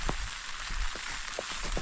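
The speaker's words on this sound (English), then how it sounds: "rain is coming down now" Rain falls at a mountain campsite, a dense, steady patter of drops striking nearby surfaces with a few louder individual hits, close and continuous with no voices.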